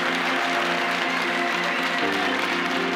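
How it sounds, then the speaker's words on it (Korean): A ceremony audience in an auditorium claps steadily through the whole stretch, a dense, even wash of applause with sustained tones from background music underneath. "여러분 큰 박수 부탁드리겠습니다"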